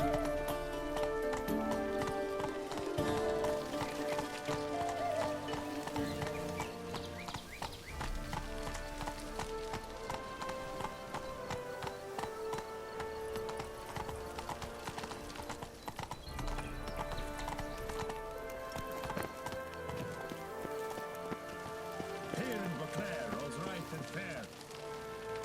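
Geralt's horse Roach galloping in The Witcher 3: Wild Hunt, with steady rapid hoofbeats under continuous orchestral music and occasional voices.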